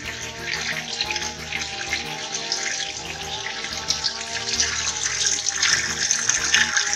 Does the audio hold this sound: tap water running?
yes